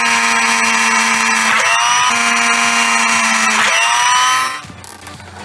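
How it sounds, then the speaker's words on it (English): A power drill bores small holes in a car part from a BMW 135i build, a loud, steady high-pitched whine that dips twice as the bit bites, then cuts off near the end. "I'm going to try to drill 2 little holes"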